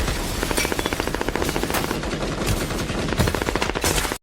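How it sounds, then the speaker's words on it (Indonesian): Rapid automatic gunfire fills a movie shootout, dense bursts of close, loud shots rattling almost continuously with brief gaps, and no one speaking. "Baku tembak besar-besaran pun akhirnya meletus"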